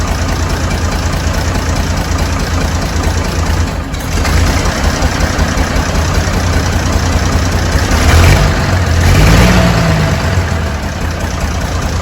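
Old tractor engine running rough after a cold start, a steady idling drone with knocking that swells as it is revved around the middle and near the end, close and continuous with no talk.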